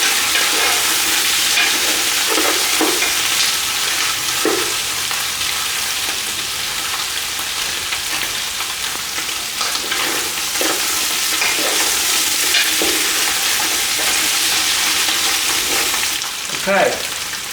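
Oxtail and lamb pieces frying with white pepper, stirred in a pan, with a loud continuous sizzle and occasional scraping strokes throughout.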